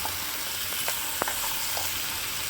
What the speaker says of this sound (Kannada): ಎಲ್ಲ ಸ್ವಲ್ಪ ಫ್ರೈ ಮಾಡಿದ ಮೇಲೆ ಸ್ವಲ್ಪ ಟೊಮೊಟೊ ಹಾಕ್ಕೊಳ್ಳಿ